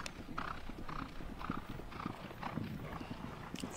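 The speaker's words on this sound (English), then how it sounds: "Santi change horses, Facundo." Polo horses' hooves clip-clop in a quick, irregular rhythm during a horse change at a polo match, faint against outdoor background noise.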